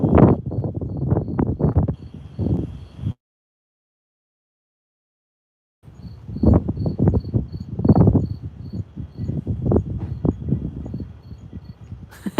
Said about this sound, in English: Oh, the crickets are back.